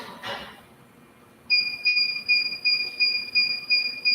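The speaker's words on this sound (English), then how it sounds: "My machine gets down in 3 seconds, it beeps, and then I know that it's done" A sublimation heat press finishes its cycle with a series of clear, evenly spaced electronic beeps, about eight short tones after a quiet stretch with a faint earlier rustle.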